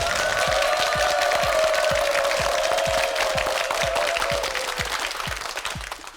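Studio audience applause on a Korean television quiz show, a steady crowd clap lasting several seconds, heard under a lingering musical tone with sharp low thumps ticking in a regular beat throughout.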